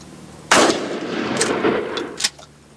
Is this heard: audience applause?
no